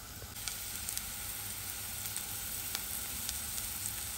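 Onion and garlic sizzle steadily in hot oil at the start of cooking leafy greens, a close, continuous frying hiss with small crackles throughout and no voices.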